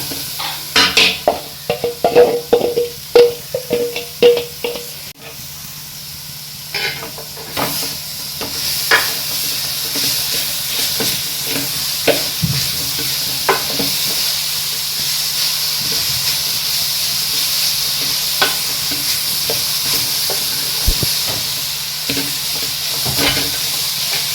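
Beetroot bhaji frying in a kadai in a home kitchen, with a steady broadband sizzle and hiss throughout, close and fairly loud, broken by frequent clattering scrapes and knocks of stirring, thickest in the first few seconds.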